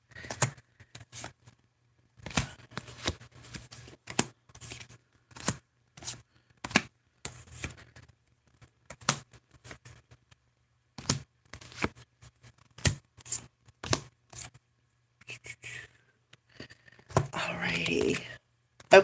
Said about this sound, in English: I got to put all the cards back together here real quick